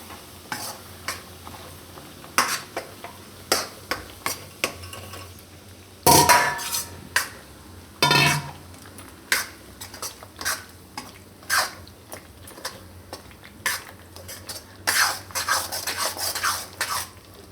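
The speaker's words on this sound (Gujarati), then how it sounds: "હવે ગેસ આપણે ધીમો કરી દઉં અને લોટ બધો આપણે એમાં નાખી દઉં. આ તરત એમ આ રીતે મિક્સ કરી લેવાનું." Flour being stirred into hot ghee in a pan over low heat for Gujarati adadiya, giving a steady run of scraping, stirring strokes with light sizzling and occasional spoon knocks against the pan, close and with no talk.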